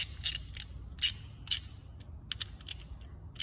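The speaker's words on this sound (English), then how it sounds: "So once you got your depth set, you're gonna tighten these 2 bolts down." Bolts being tightened down on a brake line flaring tool, giving a series of short, crisp metallic clicks and ratcheting bursts in uneven clusters, close and fairly quiet over a low background rumble.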